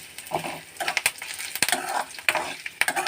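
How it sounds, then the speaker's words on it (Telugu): Curry leaves and dried red chillies frying together in a pan for sesame spice powder, with crackling sizzle and repeated scraping stirs and light clinks, close and uneven in rhythm. "కరివేపాకు, ఎండుమిర్చి రెండు ఒకేసారి వేగిపోతాయండి"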